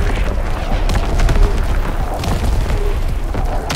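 An artillery barrage in Call of Duty WWII: repeated heavy booms and crackling blasts roll one into another, loud and close, with deep rumbling underneath throughout.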